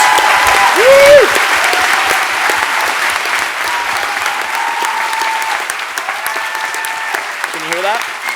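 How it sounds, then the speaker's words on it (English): A crowd gives a steady round of applause at a showcase event, dense clapping continuing throughout with occasional whoops and faint tonal sounds over it. "Here's a round of applause."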